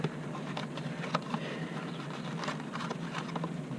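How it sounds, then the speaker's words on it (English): Light rain patters steadily outdoors during a serpentine belt change on a 2001 Ford F-150, a soft continuous hiss broken by faint scattered ticks and drops. "it would decide it's going to rain out of nowhere after having a fantastic,"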